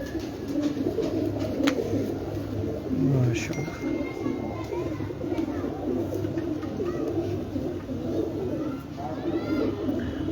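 Racing pigeons coo on a rooftop in Farooqabad, a low, steady burbling that runs through the whole stretch beneath a voice that speaks briefly.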